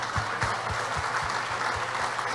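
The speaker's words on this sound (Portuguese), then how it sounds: "Uma salva de palmas para os nossos anciãos." A congregation claps together in a church gathering, steady hand claps with a regular beat, moderately loud, with no talking.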